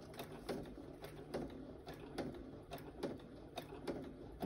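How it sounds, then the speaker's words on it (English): A sewing machine stitching a curve on a file-folder folio in short, slow bursts, its faint mechanical whir and repeated needle ticks coming at an uneven pace against a quiet room. "I'm still getting used to this sewing machine."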